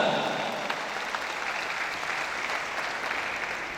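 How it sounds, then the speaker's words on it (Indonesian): Congregation applause at a Christmas celebration of a family social association in Mimika, a broad, even wash of many hands clapping together that holds steady and fairly loud from start to finish, with no speech over it. "Tepuk tangan bagi Allah kita."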